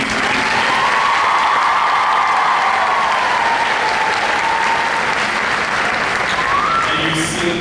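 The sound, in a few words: audience applause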